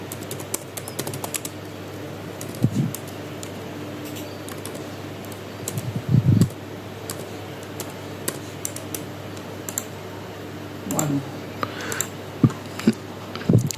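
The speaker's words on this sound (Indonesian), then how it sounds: "kita ketikkan IP-nya" Keys tapping on a computer keyboard while an IP address is entered for static routing setup, with sparse irregular clicks and a few brief louder clusters over a steady background hum.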